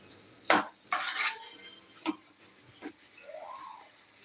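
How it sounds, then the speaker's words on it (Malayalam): Chicken spring roll filling being stirred in a pan, a few separate scrapes and clanks of a utensil against the pan with quiet gaps between them, close but fairly soft. "നല്ലവണ്ണം ഇളക്കി കൊടുക്കുക"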